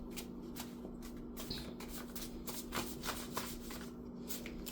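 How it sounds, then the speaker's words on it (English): A deck of cards being shuffled by hand, a run of quick crisp riffles and snaps in uneven bursts, close and clear over a faint steady hum, with no talking. "I'm just going to shuffle all my cards together and see whatever comes out"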